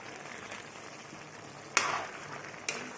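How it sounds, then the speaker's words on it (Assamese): Duck meat with ginger-garlic paste and tomato paste is stirred in a pan, giving a soft steady sizzle with two sharp scraping clacks of the utensil against the pan, fairly quiet and without talk. "ভালকৈ লৰাই দি আছোঁ"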